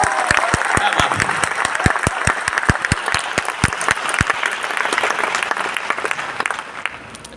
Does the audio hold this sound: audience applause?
yes